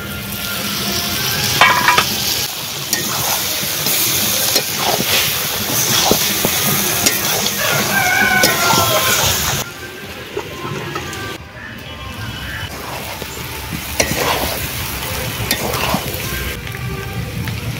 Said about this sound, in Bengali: মাংস খুব সুন্দরভাবে কষানো হয়ে গেছে।